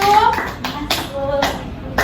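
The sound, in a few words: children clapping for group 1 in class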